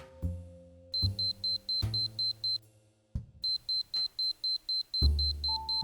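A Minolta X-700 camera's shutter speed warning: rapid, evenly spaced high-pitched electronic beeps repeat in bursts, broken by mechanical clicks and low thumps, with a brief lower tone at the end.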